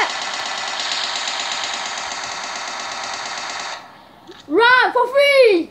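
Rapid machine gun fire from a PUBG-style animation, a loud sustained burst lasting several seconds that cuts off, followed by a short shouted voice.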